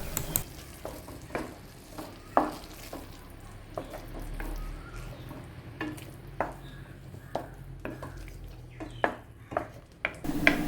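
Banana pieces stirred in a pan with cardamom and ghee, giving repeated soft scraping and clinking strokes over a faint sizzle, fairly quiet and close.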